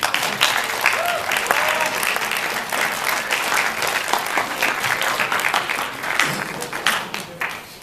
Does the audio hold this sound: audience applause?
yes